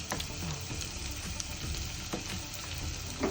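Finely chopped onions frying in a little oil in a pan give a soft, steady sizzle with occasional light crackles, faint and continuous, with no talking.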